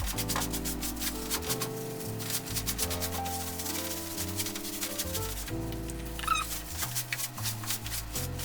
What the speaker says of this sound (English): So we're just gonna go through and lightly brush it off.